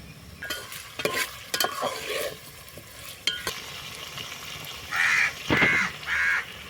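Tomatoes sizzle in a pan on a wood-fired stove while Kolhapuri misal is cooked. A spoon scrapes and clatters several times, and crows caw nearby in a few loud bursts toward the end.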